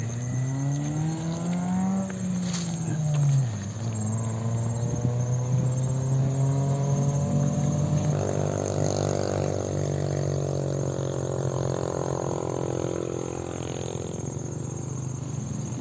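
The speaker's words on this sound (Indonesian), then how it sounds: "mungkin sedikit berisik dengan kendaraan motor ataupun mobil karena jalan jalur Tasikmalaya Ciawi itu di pertengahan sawah" Motorbikes and cars pass along the Tasikmalaya–Ciawi road through rice fields, engine tones rising and falling loudly as vehicles go by, with a steady droning hum throughout.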